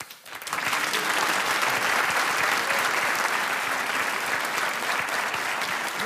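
Comedy show audience, polled by the performer during a sketch, bursts into applause that swells within the first half second and then holds as a loud, full, sustained roar of many clapping hands.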